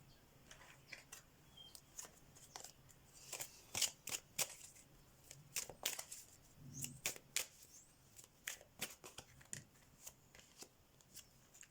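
Tarot cards being shuffled by hand during a card reading: a long run of crisp, rapid riffling and flicking bursts, close and fairly quiet, with no talking over it.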